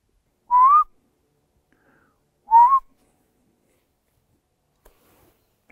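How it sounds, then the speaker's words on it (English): Tawny owl chicks give two short, rising whistled calls a couple of seconds apart, fairly close and clear against near silence, followed by a faint tick and the start of another call at the end. "I can hear the chicks calling."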